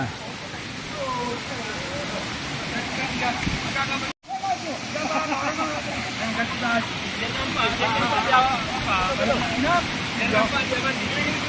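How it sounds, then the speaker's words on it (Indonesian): The Brawang Cahya waterfall in Aceh roars steadily as broadband rushing water, while people talk nearby; the sound cuts out for an instant partway through. "ini air terjun Brancaya ya namanya ini"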